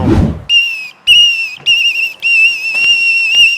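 After a brief rush of noise, a high, thin turbo whistle rises in several sustained bursts separated by short pauses, loud and close.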